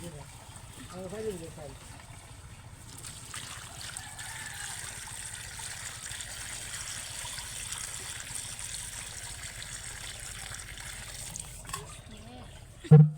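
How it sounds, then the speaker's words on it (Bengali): Hot water trickles and splashes steadily while beef trotters are rinsed clean by hand, a low continuous pouring sound running for several seconds with a brief louder knock near the end; no one talks over it. "গরম পানি নিয়ে অল্প অল্প করে এভাবে পরিষ্কার করে নিচ্ছি"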